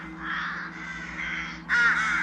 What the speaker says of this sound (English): Miss Wren, are crows known to sing? Not like this